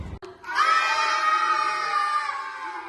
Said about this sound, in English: Little Red Riding Hood screamed and ran towards the door.